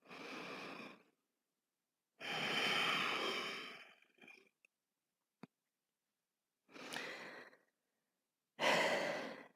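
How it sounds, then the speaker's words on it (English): Slow, deep yoga breaths come in long, strong exhales and inhales, separated by quiet pauses, close to the listener, with a few faint soft clicks between them and no speech. "Deep breathing."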